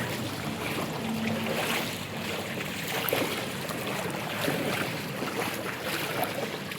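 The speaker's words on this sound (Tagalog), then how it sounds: "Hirap maglakad sa tubig." Continuous heavy sloshing and swishing as someone wades through knee-deep floodwater in a flooded neighbourhood, a steady rushing wash of water with gusty wind noise and no talk.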